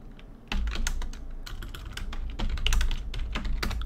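Close computer-keyboard typing in quick, uneven clusters of clicking keystrokes, continuous through the whole stretch with no talking.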